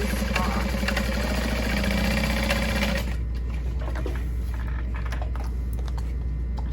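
A sewing machine stitches a tote bag, running with a steady, fast mechanical whir and needle chatter for about three seconds before stopping, leaving a low hum and scattered faint clicks of fabric handling.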